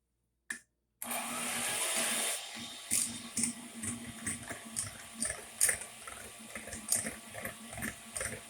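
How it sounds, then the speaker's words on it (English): An electric hand mixer beats egg whites in a bowl, starting with a brief click, then a steady motor whir broken by rhythmic scraping and clattering pulses as the beaters hit the bowl, close and fairly loud. "We're going to use this hand mixer. We're going to plug it in. And we're going to beat up our egg whites."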